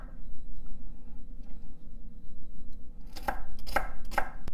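A knife chops celery for Filipino pancit, three crisp close strikes in quick succession at the end over faint background hum.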